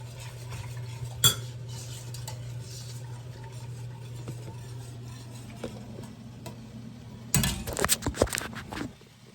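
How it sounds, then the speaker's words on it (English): A utensil stirs Thanksgiving gravy in a pan over high heat, with soft scraping and clinking against the pan over a steady low hum, then a louder burst of metallic clatter near the end. "I'm gonna bring this to a high heat and continuously stir it, let it thicken"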